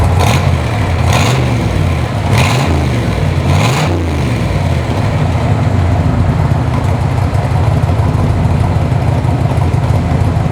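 A 1966 Chevrolet Corvette roadster engine running loud and close, with a few sharp throttle blips early on before settling into a steady, rumbling idle.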